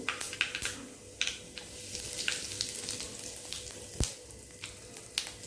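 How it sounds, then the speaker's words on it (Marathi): Mustard seeds, cumin and asafoetida crackling in hot oil in a pan, a soft sizzle with irregular sharp pops and spits spread throughout, close by with no one talking. "मोहरी छान तडतडली आता याच्यात मी जिरा टाकणार"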